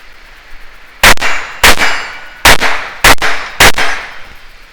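Five suppressed .22LR gunshots fired with Federal ammunition ring out as sharp metallic cracks, spaced roughly half a second apart, loud and close with short ringing decays and no talk.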